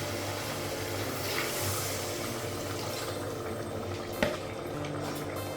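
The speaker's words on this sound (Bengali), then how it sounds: "বেশি করে একটু জল লাগাবো।" Water poured into a duck meat curry as it cooks, a soft steady bubbling and sizzling with a brief sharper splash near the end, faint and alone.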